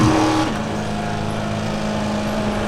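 A Baja truck engine in the iRacing simulator, using a sequential gearbox, holds a loud, steady drone whose pitch drops early on and then stays even and close throughout.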